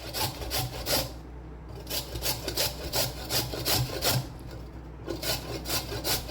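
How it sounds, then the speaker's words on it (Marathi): Beetroot being grated by hand on a kitchen grater, a steady rhythmic rasping of back-and-forth strokes, close and clear with no talking. "तर आता किसणीमध्ये हे आपण असं बीट आता किसून घ्या।"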